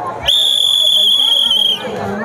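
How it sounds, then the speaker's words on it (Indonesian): A referee's whistle gives one long, loud, steady blast of about a second and a half to start a children's race at a primary school event, over a murmur of voices. "Udah siap-siap ya, sama kayak tadi ya, tunggu peluit dari Om Anjar."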